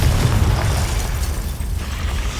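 A Confringo fire blast spell explodes in the Hogwarts Legacy video game, a loud, dense, rumbling burst that fills the whole moment with heavy low boom and wideband crackle.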